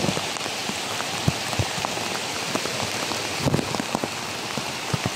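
Steady rain from a typhoon pattering on a surface, with scattered heavier drops landing nearby; no voices, just a constant wet hiss.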